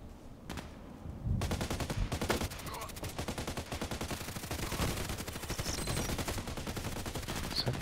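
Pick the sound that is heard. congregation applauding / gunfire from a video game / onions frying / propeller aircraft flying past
gunfire from a video game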